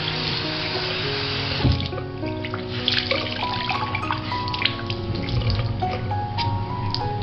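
Cold water pours steadily from a tap onto a table tennis paddle's sponge rubber, with continuous close splashing and trickling and small drip-like accents throughout.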